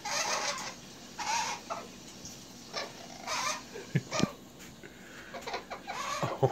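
A pet parrot splashes in a water bowl during bath time, giving short squawks, chirps and scratchy calls in intermittent bursts, fairly close and moderately loud, with a couple of sharp clicks in between.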